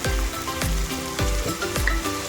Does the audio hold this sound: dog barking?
no